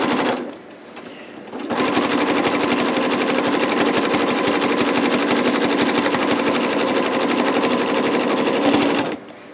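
A sewing machine stitching a thread painting runs in a fast, steady, continuous whir of rapid needle strokes for about eight seconds, close and loud, starting and stopping abruptly with no talking.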